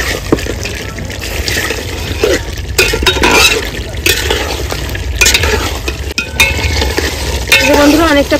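Mutton curry being sautéed in a pan, with steady sizzling and repeated scraping, stirring strokes throughout, close and fairly loud with no talk.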